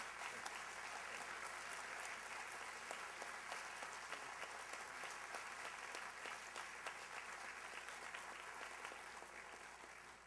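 Sustained audience applause at the 2011 Amherst Area Chamber of Commerce A+ Awards, many hands clapping evenly for about ten seconds and tapering slightly at the end.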